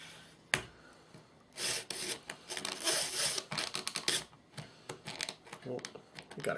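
A wooden bow drill spindle rubs in a wooden hearth board with a cracked spindle, making rapid scraping, rasping strokes in irregular bursts after a sharp knock, close and moderately loud.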